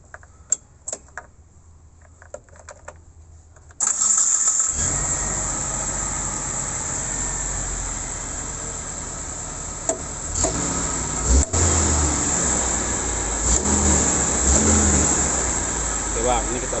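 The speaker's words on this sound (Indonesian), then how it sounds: "Ini kita hidupkan mesin ya bang" A 2014 Mitsubishi Colt T120 SS engine cranks and starts, then settles into a loud, steady idle with occasional revs. Faint ticking comes before the start, and a voice talks near the end.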